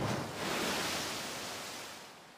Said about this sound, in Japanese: 寄せては返す波の音